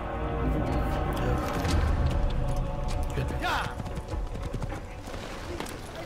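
Horse hooves clip-clop at a gallop in Assassin's Creed, steady and close beneath continuous game ambience, with a horse whinny and talk-like voices mixed in.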